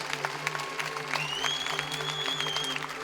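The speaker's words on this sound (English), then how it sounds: "What was it that drew the applause there from the crowd?" Scattered crowd clapping at an outdoor IFSC Lead climbing World Cup semi-final in Briançon, fairly light and uneven, with steady background hum and faint whistling tones over it.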